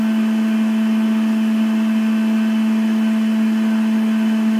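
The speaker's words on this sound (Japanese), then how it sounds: "乾燥の時の音はこんな感じです。" Washing machine running its drying cycle: a steady, close, fairly loud mechanical hum with a constant low tone and airy whir, unchanging throughout with no voices.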